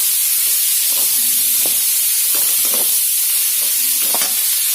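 Boiled white chana is stirred into masala in a pan, with a steady bright sizzling hiss throughout and soft, irregular scraping strokes of the spoon underneath.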